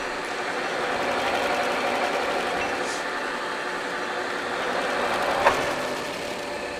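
A Lodge & Shipley Series 20 heavy duty engine lathe, 24 by 150 inches, runs at a higher spindle speed with a steady mechanical whirring hum and a brief clank near the end, heard alone.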